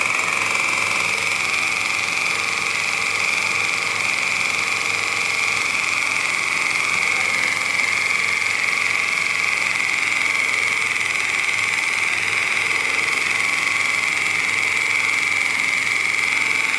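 A homemade single-stroke air engine with a valve made from a motorbike valve body runs steadily, giving a continuous fast even rattle with a hissing whine, close and loud throughout without any pause.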